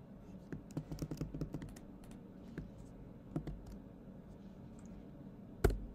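Irregular clicks of typing on a computer keyboard while entering a ServiceNow ticket number into a search, with crisp close keystrokes in quick bursts, then sparser taps and one sharper final strike, with no talking.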